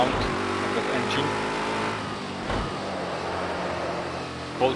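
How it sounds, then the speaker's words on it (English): An LMP2/LMP3 race car engine hums steadily at moderate volume during practice testing at Autódromo Internacional do Algarve, with a couple of brief revs and faint talk layered over the continuous motor drone. "Completely different sound of that engine."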